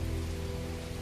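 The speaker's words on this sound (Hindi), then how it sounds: "इतनी ज्यादा बारिश" Steady, dense rain patters on a surface in a continuous wash, with a low hum underneath; no voices.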